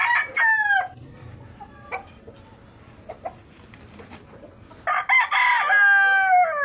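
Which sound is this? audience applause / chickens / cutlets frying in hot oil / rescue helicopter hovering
chickens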